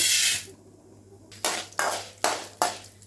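Fried lentils and ingredients being tipped from a pan onto a plate, a burst of sizzle and scraping followed by four sharp clinks of a metal spoon against the dish, evenly spaced and close.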